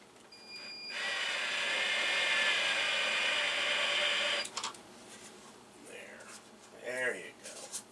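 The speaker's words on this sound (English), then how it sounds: "we're going to use the drill to just cut threads into the plastic" A power drill driving a 7/16 socket to cut threads into plastic for a piece of colonial-style Mandalorian jetpack armor, running as a steady, loud whine for about three and a half seconds, then stopping; faint handling noises and a brief voice follow.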